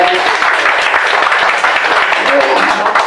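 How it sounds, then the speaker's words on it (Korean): Attendees at an annual general meeting and year-end party of a victims' group applaud a guest, a brief, even burst of crowded clapping with some talk underneath. "큰 박수 한번 부탁합니다"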